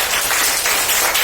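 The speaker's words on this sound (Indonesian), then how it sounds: "tepuk tangan dulu untuk kita semua" Classroom applause from a group of schoolchildren, a brief, steady, dense patter of clapping filling the whole moment.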